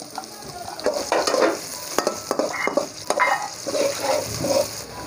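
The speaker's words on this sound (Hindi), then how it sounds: "अब अदरक और मिर्ची डाल देंगे।" Ginger and green chili frying with onion and garlic in a pan give a steady sizzle, broken by repeated scraping and stirring clatters from a spoon, close and alone without talk.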